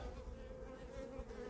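Honey bees buzz around an open beehive, a dense continuous droning hum that is close and fairly quiet, with no talking.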